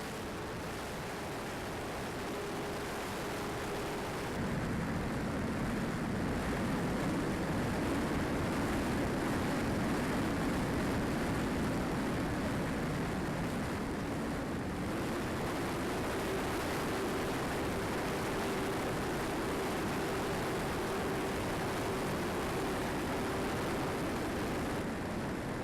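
An RC airplane's Emax electric motor whines steadily in flight under a loud, constant rush of wind, the motor pitch shifting a few times, heard from a tail-mounted camera with no talk.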